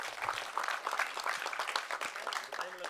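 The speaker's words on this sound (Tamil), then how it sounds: "இந்த நேரத்தில் பலத்த கரகோஷம் கொடுங்க." An audience at a film audio and trailer launch event claps in sustained, moderately distant applause, a dense patter of many hands continuing evenly throughout.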